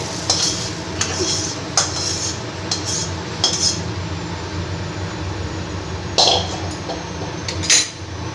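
Utensil stirring vegetables into a rice and lentil batter with boiled potato, heard as soft scraping and several sharper clinks against the bowl over a steady low background hum.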